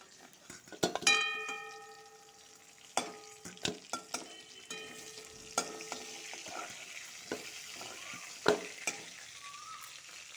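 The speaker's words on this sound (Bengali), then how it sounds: "মাছের তেলে শুকনো লঙ্কাটা ভেজে নিব লাল করে" Light sizzling of dry red chillies frying in fish oil, broken by several sharp clinks and taps of a utensil against the pan; no one speaks.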